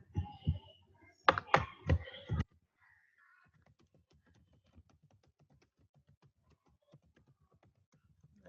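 Someone types on a computer keyboard while writing a simple VB 6 program: a quick cluster of close, crisp key taps up front, then faint, sparse clicks trailing off in a quiet room.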